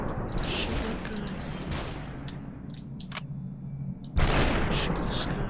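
Gunshots ring out in the video game Superhot, with sharp bursts and booms over dense, loud game noise. A louder crack comes near the end.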